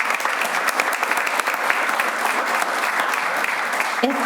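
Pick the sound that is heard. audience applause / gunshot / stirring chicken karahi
audience applause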